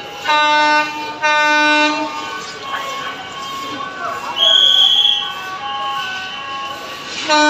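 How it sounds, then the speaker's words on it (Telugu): A train rolls over newly laid track on a railway bridge in Anantapur, its horn sounding in long steady blasts near the start, then a sustained rumbling passage with another tonal burst midway, with voices talking nearby. "ఈ ట్రాక్ పైన ట్రైన్ ఎలా మూవ్ అవుతుంది, అవి షేక్ అవుతాయా లేదా చూద్దాం."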